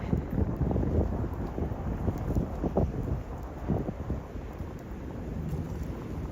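Gusty wind blowing outdoors on a chilly New York City street, a steady low roar buffeting the microphone with rising and falling gusts and no voices.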